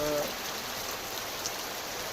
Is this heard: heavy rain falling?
yes